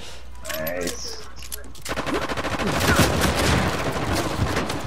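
Pistol fire in an Uncharted 4 multiplayer match: after a quieter opening, loud rapid shots crackle in dense bursts for the last few seconds, blending with game noise.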